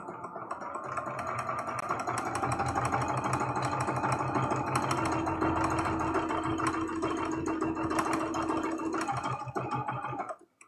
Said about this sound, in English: We're going to line up right to the edge of this presser foot, and we're sewing.